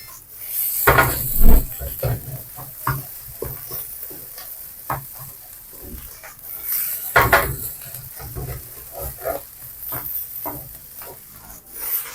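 Fermented pork fried rice with sliced spring onion and pepper is stir-fried in a pan: a spatula scrapes and tosses in irregular bursts over a low sizzle, with brief quiet gaps between strokes.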